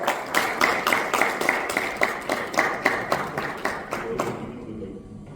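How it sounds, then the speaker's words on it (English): Audience at an education awards ceremony in Dubai claps together with many hands, loud and near, steady for about four seconds before fading out. "Let's have a big round of applause."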